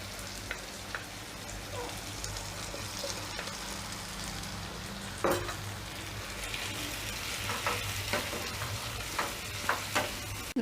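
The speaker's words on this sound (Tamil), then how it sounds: "இப்போ நம்ம ஊற வச்சுருக்க சிக்கனை சேர்த்துக்கலாம்." Marinated chicken added to softened tomatoes for a Chettinad chicken masala frying steadily in a pan, with a continuous sizzle and scattered scraping stirs that grow more frequent toward the end.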